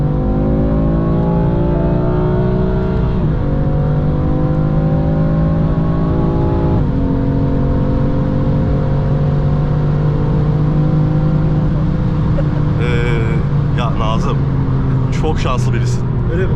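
A BMW M4 with a 3.0 turbo 431 hp engine and DCT gearbox accelerating hard, its revs climbing in rising sweeps broken by quick upshifts, loud and close under excited talk, with sharp pops near the end.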